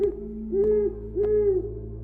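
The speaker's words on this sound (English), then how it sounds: "Didn't know there were owls here, but okay." An owl hoots in the video game Cubic Odyssey, three or four evenly spaced soft calls over a steady low ambient hum, clear and moderately loud with no talking.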